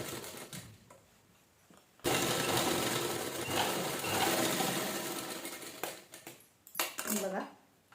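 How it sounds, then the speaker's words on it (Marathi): A sewing machine stitching a cloth hand purse runs in a steady, loud burst for about four seconds, then stops, followed by talking and handling noises. "जशी ह्या साईडला आपण शिलाई मारतो तशी ह्या साईडला शिलाई मारून घे"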